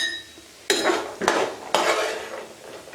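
Fried almonds and pistachios lifted out of a pan of ghee, three sharp metallic scrapes and clinks of a spoon against the pan at a steady pace, close by, with a faint sizzle between.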